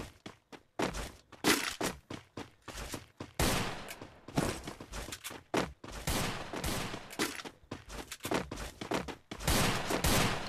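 Rapid bursts of gunfire from the Free Fire battle royale game, dense repeated shots and volleys in quick succession, loud and close throughout.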